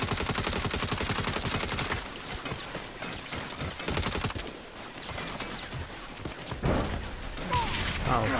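Turret gunfire in the video game Saints Row, rapid bursts of automatic shots rattling continuously, loud and close, with brief lulls between volleys.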